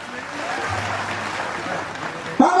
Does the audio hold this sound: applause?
yes